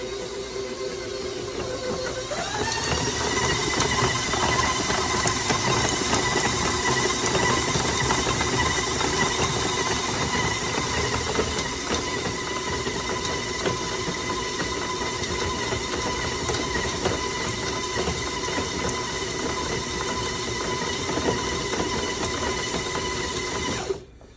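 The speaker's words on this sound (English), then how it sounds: "it kind of grinds it in the bottom, but that's okay. Hence the grinding noise." An electric stand mixer beats chocolate chip cookie dough, its motor giving a steady whirring hum with a grinding edge as the beater scrapes the bowl bottom; it steps up in speed early, then holds constant, close and unbroken.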